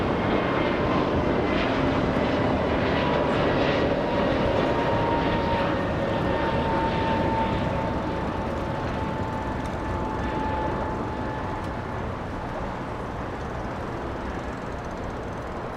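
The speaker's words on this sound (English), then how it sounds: "All right, let's go for the next takeoff." Jet airliner taking off at Los Angeles International Airport, a steady loud engine roar with a droning tone that holds for the whole stretch and fades slightly toward the end, with no talk.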